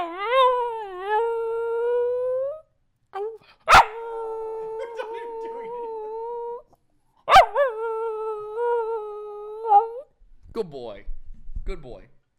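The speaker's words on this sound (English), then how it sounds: "That's such a good dog." A dog howls and whines in long, drawn-out, wavering tones, several separate bursts with short pauses and a couple of sharp clicks in between, loud and close.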